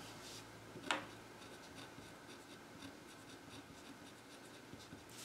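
Pen writing notes on paper, a quiet scratchy stroke with a sharp tap near the start, then soft faint scribbling against steady low room hum.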